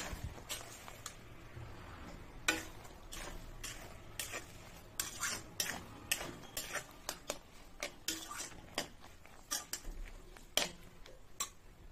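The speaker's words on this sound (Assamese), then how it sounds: "এতিয়া মই বগৰীখিনি দি দিম ইয়াত এতিয়া মই লৰাই দিম" A spoon stirs jujube sweet pickle in a pan, giving a run of irregular metallic scrapes and clicks against the metal, close and fairly quiet, with no talking.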